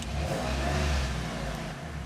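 A powerful custom-built car revving hard on a dyno, a steady loud roaring engine note that holds throughout with no voices.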